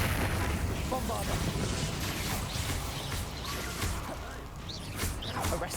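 The Bombarda explosion spell in the Hogwarts Legacy video game lands as booming, blast-like bursts amid busy combat effects and clanking, with voices in the mix.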